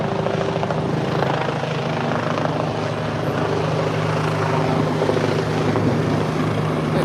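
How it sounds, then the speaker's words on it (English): A helicopter passes overhead above Istiklal Avenue in Istanbul, its rotor drone steady and loud over a busy street crowd, with no talking. "Another helicopter. Usually they're circling above. This one's just kind of flying right over Istiklal."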